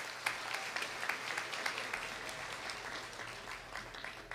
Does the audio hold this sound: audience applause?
yes